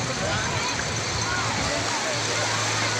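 River water rushing and splashing in a steady broadband wash at Bitbit, Norzagaray, Bulacan, continuous and fairly loud, with faint voices mixed underneath.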